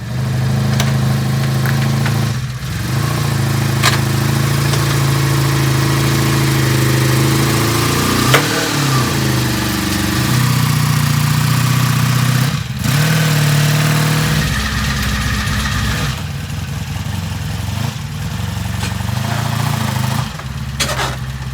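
A vintage motorcycle engine idles and revs steadily nearby for about twenty seconds as the bike is ridden up onto a trailer, a loud continuous rumble with throttle swells and a few brief dips.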